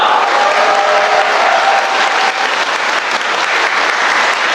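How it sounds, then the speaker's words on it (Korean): Loud, sustained applause from a large audience of about 1,500 at a redevelopment briefing for an apartment complex, a dense continuous wash of clapping with no talk over it. "다시 한번 힘찬 박수 부탁드리겠습니다"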